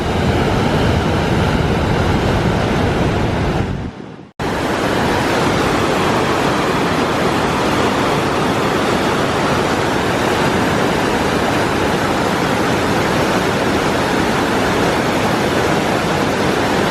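Rushing river water in the mountains between Bishop and Mammoth roars loud and close as a constant broadband torrent, cutting out briefly for a moment before resuming just as strongly.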